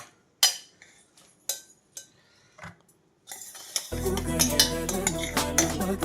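Pressure-cooked rice is scooped from the cooker into another vessel with a spoon: several distinct scrapes and clinks, spaced out, then dense music takes over the second half.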